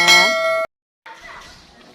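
A single bright, ringing ding with rich overtones, then a short silence and some soft, muffled noise.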